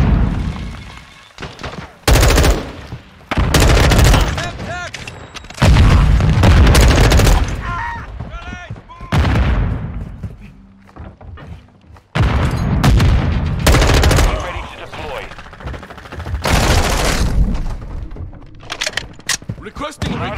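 Semtex grenade explosion amid heavy gunfire in Call of Duty Modern Warfare 2 Team Deathmatch: loud bursts of automatic fire and booms in dense, uneven volleys, with soldier voices shouting over the battle.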